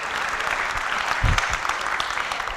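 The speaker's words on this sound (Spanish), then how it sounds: "Ay, me aplauden." An audience claps steadily through a seminar on dairy supply chain data analysis, with dense, sustained applause filling the room for a few seconds.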